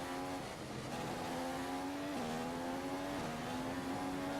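Race car engine in an F1 video game, a loud sustained drone that drops in pitch in stepped downshifts as the car brakes, each shift followed by a brief rise; no talk over it.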